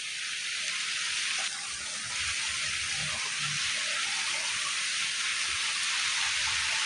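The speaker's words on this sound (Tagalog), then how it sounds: "Oh, ulan na pod." Rain on a farm field, a steady, dense hiss of falling drops that stays even and fairly soft throughout, with no voices over it.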